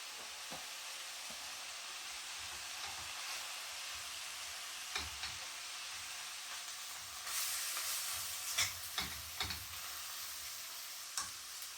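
Browned meat fries with ground black pepper in a pan for sautéed corn, giving a steady loud sizzle throughout with several sharp scraping stirs and clatters toward the end.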